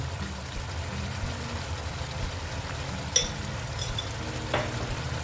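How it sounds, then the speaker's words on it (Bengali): Raw mustard oil poured over rohu fish in mustard-poppy seed gravy sizzling in a pan, a soft steady crackle with low bubbling and a couple of brief clinks, close and no one speaking. "এই যে কাঁচা তেল দিয়ে দিলাম"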